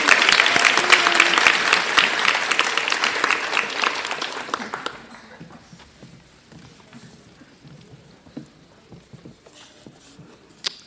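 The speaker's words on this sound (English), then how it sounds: "Let's have a round of applause for all our graduates." Crowd applause at a nursing pinning recognition ceremony, dense and loud for about five seconds before fading to scattered claps and faint room noise.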